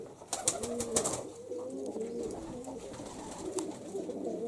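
Pigeons coo at a rural dovecote, their soft, low burbling repeating over a noisy, rustling background with a few sharp clicks, moderately close but not loud.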